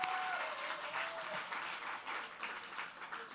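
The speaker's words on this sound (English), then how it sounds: "Give it a round of applause for round 2," Steady applause from an audience cheering contestants after a round of a competition, a dense wash of clapping at moderate volume with no talking.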